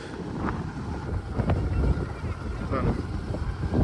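Strong wind buffets the microphone over flooded paddy fields in Jaffna, a continuous low rumbling roar with gusts swelling and easing throughout, loud and close.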